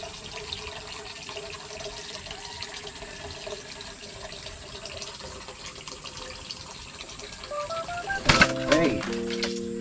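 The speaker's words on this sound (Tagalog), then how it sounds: "Palagyan natin ng tubig yung ating kawali." Water is poured into a kawali cooking pan to make a simple vegetable sinigang, a brief rising gurgle of filling liquid near the end after a stretch of quiet room sound and talk.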